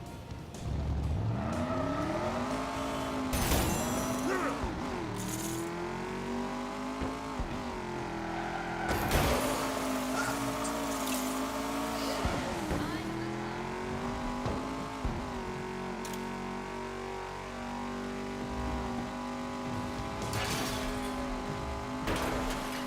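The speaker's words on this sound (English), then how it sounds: "take it off of mute for just a few minutes and listen to this car" A race car engine in the video game LEGO Batman: Legacy of the Dark Knight revs and drones through gear changes, pitch sweeping up and dropping repeatedly, with occasional tire squeals over a steady roar.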